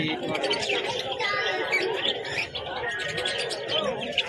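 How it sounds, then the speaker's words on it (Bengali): Fancy Lakha pigeons at the Beldanga pigeon market in Murshidabad, soft cooing and chirps within a busy market murmur, with someone talking over them. "ফেন্সি লক্ষা রয়েছে, লক্ষা কবুতর লেজ বাঁধানো"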